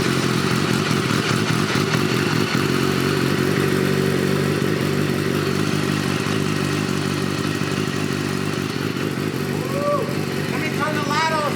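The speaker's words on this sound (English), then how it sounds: "It's running a little rough right now, but it's because I got the vacuum lines on backwards." A G-Wagon's engine, with its vacuum lines fitted backwards, runs roughly with uneven clattering at close range, while a voice talks over the steady engine noise throughout.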